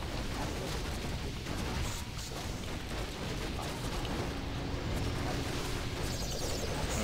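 Blizzard and fire spells rain down in a Warcraft III 4v4 battle: a dense, continuous wash of crackling, rumbling impacts and bursts, steady and busy throughout.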